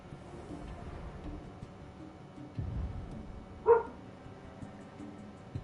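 A dog named Reggie gives a single muffled bark, distant and seemingly outdoors, over a low indoor hum, otherwise quiet with no talk.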